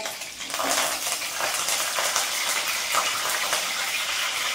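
Green chillies and curry leaves fry in a pan of hot oil for a Tirupati-style curry, giving a steady, close, fairly loud sizzling hiss that runs unbroken throughout with no voices.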